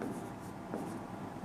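Steady scratching of writing on a board during a Class 12 physics lesson on oscillations, a continuous close-up scrape with no break.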